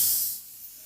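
Spray gun hissing out metal flake paint over a silver base, a brief close burst of airy spray that fades quickly to quiet.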